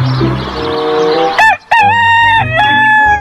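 A toy rooster plays a loud, close recorded crowing call, one sustained cock-a-doodle-doo after a short burst of clucking, with no talking.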